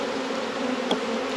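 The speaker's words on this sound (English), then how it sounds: "Tons of bees." Honeybees buzzing steadily around open hive frames at an out yard on a vineyard, a dense, close, continuous drone with one brief louder pass near the microphone.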